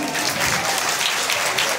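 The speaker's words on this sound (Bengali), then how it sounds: "একটু জোরে হাততালি দিন।" An audience applauds at a live Rabindrasangeet concert in Bangladesh, with dense, even clapping from a large crowd that stays loud throughout the short burst.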